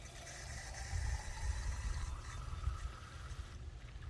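A steady, low rushing stream of hot water pours continuously into a recycled glass jar for several seconds, faint and muffled, with no voices.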